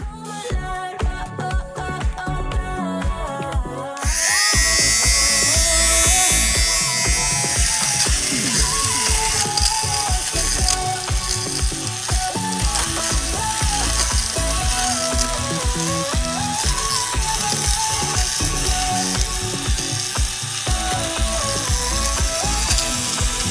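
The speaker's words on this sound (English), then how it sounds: "I'm going to use my little shaver tool here, and I'm going to get some of those fuzzies off" A small handheld fabric shaver buzzes close by, its motor whirring continuously with a pitch that wavers as it rasps and scrapes fuzz from speckled couch upholstery.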